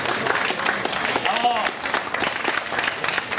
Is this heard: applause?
yes